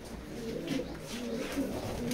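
A racing pigeon, a male loft bird from a pair with several races behind it, coos in low, soft repeated phrases close by after being let out, alone without talk.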